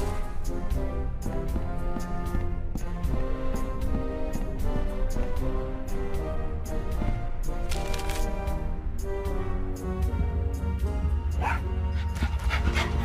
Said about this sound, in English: Oh, such a cute little dog.